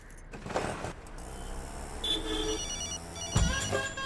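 A telephone rings faintly against a background of traffic rumble, with a brief mechanical clunk partway through.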